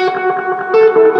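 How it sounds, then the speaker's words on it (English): Electric guitar played through a pedalboard with an echo effect, sustained notes ringing with repeating reverberant tails, close and loud with no talk over it. "but I want a little bit of echo?"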